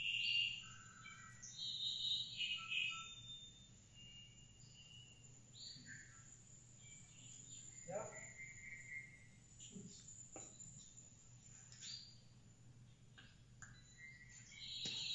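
Quiet outdoor scene in Cuba with scattered high, tonal bird calls and chirps over faint insect buzzing; the calls come in short bursts with pauses, and a brief voice speaks once.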